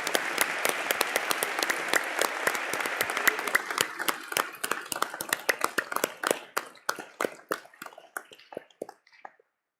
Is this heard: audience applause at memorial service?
yes